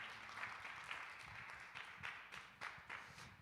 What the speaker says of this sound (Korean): 우리 힘차게 격려 박수하겠습니다.